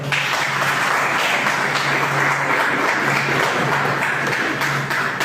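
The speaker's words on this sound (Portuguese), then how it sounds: "vamos aplaudir as mulheres." Sustained applause from a church audience as the men clap for the women, a dense, steady wash of clapping lasting the whole stretch with a low hum underneath.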